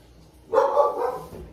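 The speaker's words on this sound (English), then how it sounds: "Come here, puppy. Puppy, outside." A dog lets out a single short, muffled bark or yip at moderate distance, after a near-silent moment, in a home kitchen.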